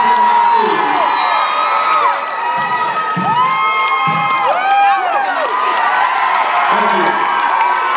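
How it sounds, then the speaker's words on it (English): Crowd cheering, whooping and shouting for an African acrobat troupe's high flyer, loud and sustained throughout with children's shouts and whistle-like cries riding over the din. "A big applause for the Bongo Man"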